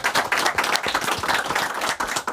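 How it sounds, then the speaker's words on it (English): An audience claps loudly and unevenly for a women's football team, a burst of many hands applauding with a few sharper individual claps standing out close by. "Can we just give a round of applause to the women who got a point the other day?"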